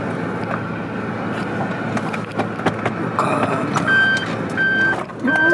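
A car's reversing beeps sound while the driver turns the car around. Evenly spaced electronic beeps begin partway through and repeat over steady engine rumble and wind noise.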